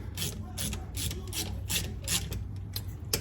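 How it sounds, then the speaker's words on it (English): Ratchet loosening axle bolts on a vehicle differential, a series of quick clicking strokes in a steady rhythm, close and fairly quiet, with no talk. "we got all these axle bolts loose"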